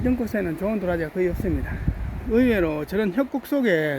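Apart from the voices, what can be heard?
None of the usual background noises is heard.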